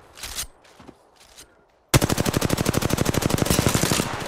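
Video game gunfire: after a few scattered, quieter sounds, a loud automatic weapon opens up in a rapid, steady stream of shots that continues to the end, near and dominant.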